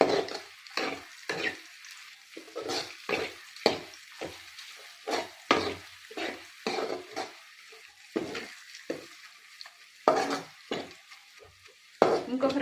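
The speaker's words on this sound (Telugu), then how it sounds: "ఒకసారి తిప్పుకుందాం." A spoon stirs mutton biryani masala with fried onions and bay leaves in a pot, giving repeated scraping strokes in an uneven rhythm over a soft, continuous sizzle, close and fairly loud.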